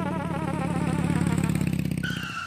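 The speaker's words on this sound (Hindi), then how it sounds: "वो बाइक तेरी है तो उसे कद्दू क्यों चला रहा है?" A motorcycle is ridden away with a loud, buzzing engine drone that holds steady and then thins and fades toward the end, with no talking.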